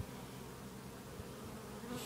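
Honeybees at a hive on a small Japanese bee farm, a steady close insect buzz that holds throughout with no talk over it.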